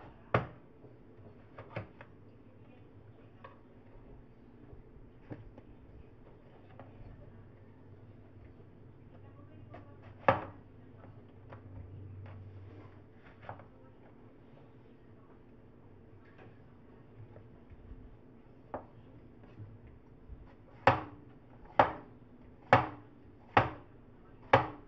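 A knife cuts through a yellow watermelon with sharp, sparse chops and thuds on a board, ending in a quick run of five evenly spaced strikes over quiet background hum.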